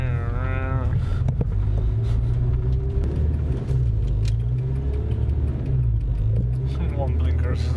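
Renault Clio 172 RS engine idling high after an intake install, a steady close rumble with slight rev fluctuations, overlaid by people talking.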